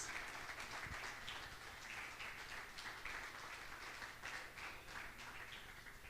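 A church congregation clapping, a faint steady wash of applause in the distance with no clear voices.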